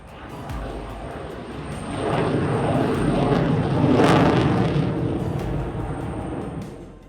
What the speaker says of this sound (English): The first, flown by the test pilot Sergei Bogdan, performed demonstration flights